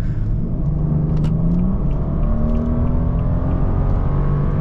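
A BMW 435i twin-turbo petrol engine of 306 horsepower hums and rumbles steadily, with a faint twin-scroll turbo whir rising and falling over a constant low drone.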